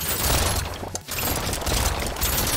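Six sniper guns firing at once in the video game Brotato, making a dense, continuous barrage of rapid shots with a brief dip in the middle.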